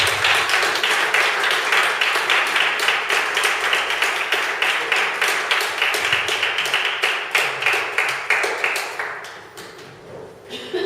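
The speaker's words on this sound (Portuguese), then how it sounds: "Uma salva de palmas de Deus." A church congregation applauds steadily, sustained group clapping that holds for several seconds and then tapers off near the end, with a faint voice underneath.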